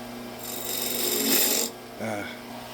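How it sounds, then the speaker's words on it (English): A spindle gouge cuts a wooden bowl spinning on a lathe, making a close rasping, shaving hiss that swells, drops off, then returns briefly over the hum of the running lathe. "Go back to my spindle gouge."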